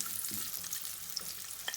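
Onions and vegetables sizzle and fry in a pan for chicken manchurian, a steady crackling hiss with a few light stirring scrapes and small pops, close and alone without talk.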